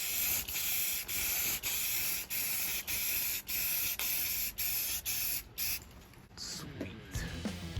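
A 1966 Buick Wildcat part gets a second coat from an aerosol spray can, a rhythmic series of close, hissing bursts with short gaps between them, followed by quieter handling noises.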